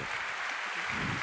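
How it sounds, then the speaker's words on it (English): A short burst of steady applause from a crowd, dense and even throughout. "Let's make a round of applause for them."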